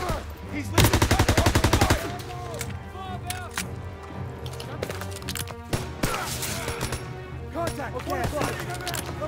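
Machine gun fire in the Call of Duty WW2 video game, a loud rapid burst of shots at the start followed by scattered gunfire and battlefield noise, with soldiers shouting over the action.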